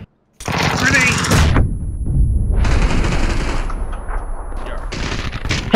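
Gunfire in the battle royale game PUBG, dense bursts of shots cracking loudly across the clip with a brief gap, close and continuous, mixed with game noise.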